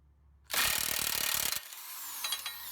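A ratchet with a 32mm socket breaks loose the axle nut during a passenger-side CV axle job on a 2008-2016 Chrysler Town and Country: one loud, dense second of rapid clicking and grinding, then a quieter shop background with faint metallic knocks.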